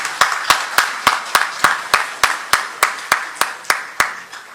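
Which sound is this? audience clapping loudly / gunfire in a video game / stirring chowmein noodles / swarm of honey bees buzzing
audience clapping loudly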